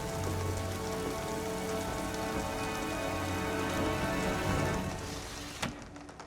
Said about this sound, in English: who doesn't love the sound of rain on a window?